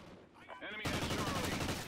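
Gunfire in the video game Call of Duty Ghosts bursts out suddenly, a loud, dense rattle of shots following a brief quieter moment with faint sounds.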